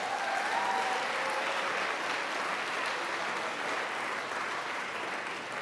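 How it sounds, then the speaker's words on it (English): Sustained applause from an audience at the 44th Annual Mayor's Arts Awards, a steady wash of many hands clapping for the event staff, even and fairly loud throughout with no talking over it. "Can we give them a round of applause?"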